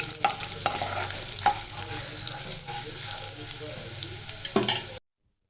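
Urad dal, chana dal and peanuts roast in a pan, with a soft sizzle under repeated scraping stirs from a spoon. The sound is close and fairly quiet and cuts off abruptly into silence near the end.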